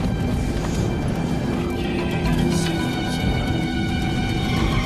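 Horses clip-clop along a narrow highway in the Amazon at close range, with an occasional whinny over a steady wash of traffic and engine noise.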